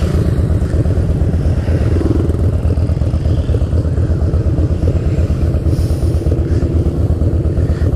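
A loud, steady rumble of motorcycle engines at the 2016 Distinguished Gentleman's Ride in the UK, with many different bikes running close by and no talk over it.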